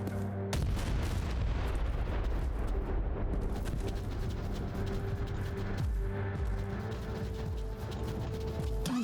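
Mortar and turret fire in the video game Warhammer 40,000 Inquisitor: Martyr: a dense, loud, continuous barrage of booms and mechanical clatter that runs the whole stretch with no pauses and no voices.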